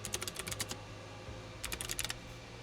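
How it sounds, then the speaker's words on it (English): Quick bursts of typing on a computer keyboard, two clusters of close, crisp key clicks separated by a short pause over a low background hum. "So if I just type this in."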